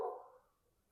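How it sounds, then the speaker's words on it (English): A single dog's bark heard once, close and fairly loud at the start, then quickly fading into quiet room tone while someone weaves fabric for a journal cover. "I don't know what Miss Fiona's barking at."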